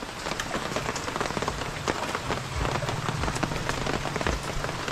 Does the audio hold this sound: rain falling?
yes